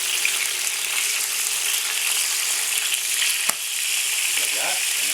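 Stuffed squid frying in a pan, a loud dense crackling sizzle with sharp spits and pops throughout, close up, with a brief low voice near the end.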